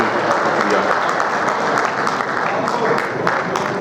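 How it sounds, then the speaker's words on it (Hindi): At a mushaira and kavi sammelan poetry gathering in Riyadh, the audience claps loudly and steadily, sustained close applause filling the hall throughout. "मंजूर हो तो मीठी मीठी तालियां हो जाएं"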